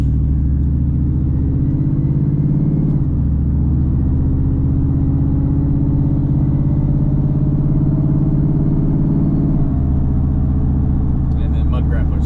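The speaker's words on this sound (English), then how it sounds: "I wanted to give y'all a lot of good exhaust footage" A Ford F-150 5.4 truck with true dual exhaust idles with a deep, steady rumble. The tone shifts briefly a couple of times, and a voice talks faintly over the engine.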